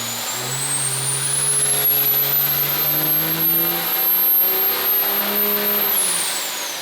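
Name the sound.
1400HP nitrous 5.9L quad cab truck engine on a dyno pull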